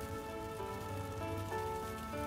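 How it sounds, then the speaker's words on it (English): Soft, steady rain patters on a car windshield, a faint continuous hiss with light drop texture and a low hum beneath, distant and unbroken for a couple of seconds. "Let the rain on the windshield become your brush."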